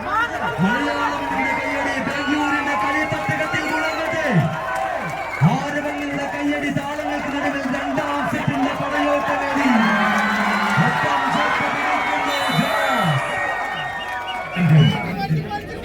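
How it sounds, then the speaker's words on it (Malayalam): A crowd at a Bengaluru football final between Jaz Vandoor and JRP Admas Mukkam keeps up a continuous roar of cheering and clapping, with voices chanting and calling loudly over the din throughout. "കയ്യടി കയ്യടി"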